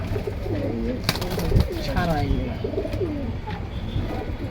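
Pigeons coo softly in low, rolling calls, close by, at a pigeon seller's collection in Keraniganj, Bangladesh, while people talk over them; a sharp knock cuts in once.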